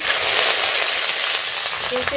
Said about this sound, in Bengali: কাঁচা লঙ্কা ফোড়ন